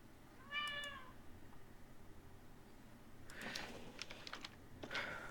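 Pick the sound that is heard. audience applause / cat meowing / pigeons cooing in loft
cat meowing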